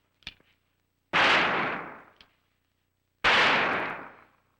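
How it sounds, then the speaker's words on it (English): Gunshots fired near a sloth: two loud, sharp blasts a couple of seconds apart, each with a long decaying tail, preceded by faint small clicks in near silence. "suppose someone came up behind you and fired a gun when you least expected it"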